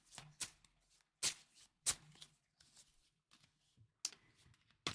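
Oracle cards shuffled and picked in a series of crisp riffling bursts and soft card slaps, close up and alone, with short pauses between each flurry.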